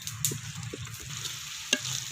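A spoon stirs and scrapes through onions, tomatoes, ginger-garlic and curry leaves sizzling in a pan for quail gravy. Soft sizzling runs throughout, with a few light metallic clinks of the spoon against the pan.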